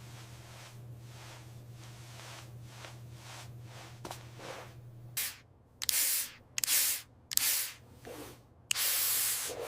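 Toner mist sprayed onto a face during a skincare routine: a series of short hissing spray bursts, about six puffs close by, the last one longer, following softer rubbing sounds, with no talk.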